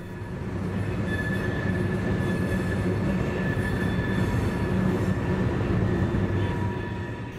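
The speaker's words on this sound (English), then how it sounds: "we'll soon see that the rear of the train is still coming around the north end" A train rumbles steadily past while rounding a curve, with a sustained high-pitched wheel squeal ringing over the low roar, continuous from start to finish.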